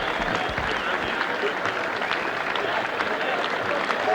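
Gallery crowd at the 1990 U.S. Open golf championship applauding steadily and loudly, a dense sustained wash of clapping with some cheering throughout.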